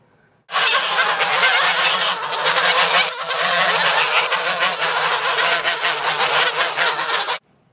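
A flock of geese on a farm honking loudly and continuously, many overlapping calls close by, starting abruptly and ending just as suddenly.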